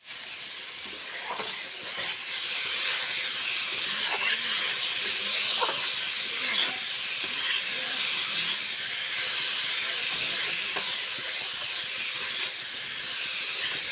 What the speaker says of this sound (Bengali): তিতা বেগুনটা ভাজা হয়ে গেছে, এখন আমি নামিয়ে নেব।